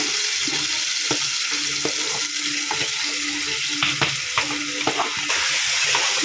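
Onion and tomato frying in oil in a home kitchen, with a utensil stirring through them: a steady sizzle runs throughout, broken by scattered scraping clinks and taps of the spoon against the pan.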